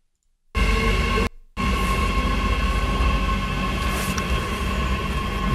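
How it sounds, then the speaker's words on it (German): A train passing close by, a loud, steady rumble with a broad hiss and faint wheel tones, briefly cut out, then continuing strong and unbroken to the end. "Guck mal, was der Zug, der nach Linkin Park fährt,"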